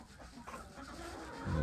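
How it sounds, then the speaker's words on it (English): Chickens cluck softly at a farm, with faint bird sounds that grow a little louder and closer toward the end of the short stretch. "Here comes the chickens, look out."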